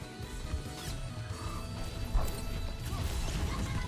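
Reinhardt's Earthshatter in Overwatch 2 lands as a heavy crash about two seconds in, a single sharp slam rising out of a dense, rumbling wash of game noise.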